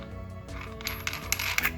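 Metal cutoff wheel fitted onto the spindle of a Bauer 4 1/2 inch, 7 amp angle grinder, giving brief light metallic clinks and taps close by, sharpening toward the end, with no talking.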